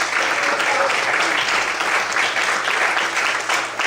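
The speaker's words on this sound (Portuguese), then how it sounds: "Você pode aplaudir a Deus?" Continuous applause from a church congregation at an evening service, many hands clapping in a thick, even wash with faint voices underneath.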